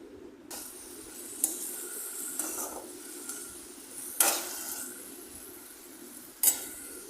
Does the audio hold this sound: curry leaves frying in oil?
yes